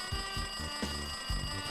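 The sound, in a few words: telephone ringing in the video game Danganronpa 2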